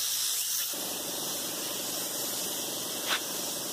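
Used motor oil sprayed outdoors onto wood as a stain: a steady pressurized hiss starts after a short pause and runs continuously, with a brief squeak near the end.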